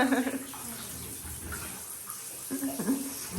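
Water runs from a tap into a small bathtub, a steady rushing hiss that lasts the whole stretch, with a voice talking over it now and then.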